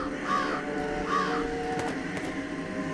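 Crows caw in the Jenny LeClue video game, a pair of harsh calls at an even pace near the start, then quieter scattered caws, all over a steady game ambience.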